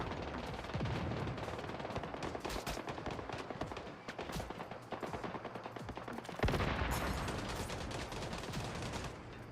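Rapid automatic gunfire in the survival shooter Once Human, long chattering bursts of shots with a brief lull before a heavier, louder volley, distant-sounding and low in level.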